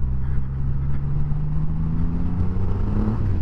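A Triumph Rocket 3 GT triple-cylinder motorcycle accelerates on a first ride, its exhaust giving a steady, close, rising engine roar with the pitch climbing smoothly through the run.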